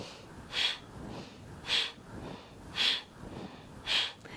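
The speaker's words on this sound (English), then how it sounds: "This is our breath of fire when we do a short, quick inhale, exhale." Short, sharp nasal breaths from a yoga breath of fire, four quick bursts spaced about a second apart, close and fairly loud, with soft breathing between them and no talking.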